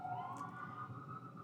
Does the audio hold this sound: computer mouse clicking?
no